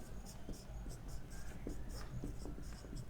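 Marker or chalk writing on a classroom board during an operating-systems lecture, a steady run of soft scratchy strokes with short pauses, fairly faint against a low room hum.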